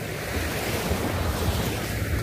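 Calm sea washes steadily around a small fishing boat out for squid and trevally netting, with a constant rushing surf and wind buffeting the microphone, no voices.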